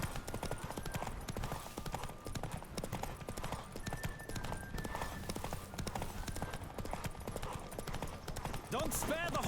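Rapid hoofbeats of a galloping horse in The Witcher 3: Wild Hunt drum steadily throughout, with game music and a voice speaking over them, and a brief whinny-like sweep near the end.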